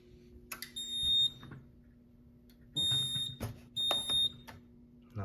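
A Fireworx FX-64 fire alarm set off by a pull station sounds in bursts, sharp electronic tones with clicking pulses, repeating in a few separated blasts with quiet gaps between.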